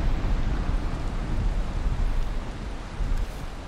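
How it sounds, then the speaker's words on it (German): Thunderstorm in Valheim high in the mountains, with heavy rain and a broad low rumble of thunder forming a steady loud wash that swells slightly here and there. "hier tobt ganz schönes Unwetter"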